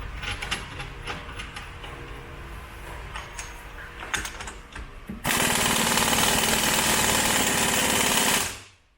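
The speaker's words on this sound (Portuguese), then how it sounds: "Então, eu vou apertar a porca central agora." Tightening the central nut on a 1976 Fusca rear brake drum with a loud, steady impact wrench rattle lasting about three seconds, after quieter clicks and tapping of tools.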